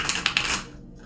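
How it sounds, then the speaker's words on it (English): Tarot cards being shuffled: a few quick, crisp riffling bursts close by, then the rustle fades into quiet. "I gotta shuffle this pretty good."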